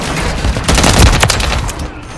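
Dense, loud gunfire in Call of Duty: Modern Warfare III rattles in a rapid close burst, with shots layered together for a couple of seconds.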